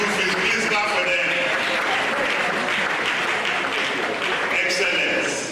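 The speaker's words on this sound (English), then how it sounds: "Please clap for them." An audience at an optometry oath-taking and induction ceremony applauds, a dense, steady burst of clapping that fills the room and holds level throughout.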